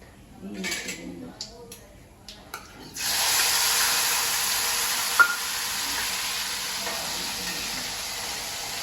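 Garlic paste and finely chopped tomato hit a hot pan at about three seconds, setting off a loud, steady sizzle that runs to the end after some brief kitchen clatter and quiet handling sounds.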